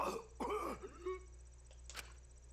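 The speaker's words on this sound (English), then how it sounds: "That asshole is coughing blood." Harsh, wet coughing from a character in Danganronpa V3, two strong bursts near the start followed by fainter throat sounds and a brief sharp sound near the end, heard alone with no speech.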